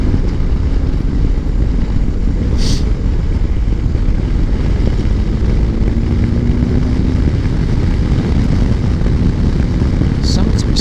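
BMW R1250GS motorcycle riding along, its engine roar blended with heavy wind rush in a loud, continuous wash with no pauses.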